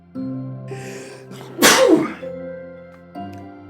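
A single sharp sneeze bursts out loud and close, rising quickly and trailing off, with soft background music before and after.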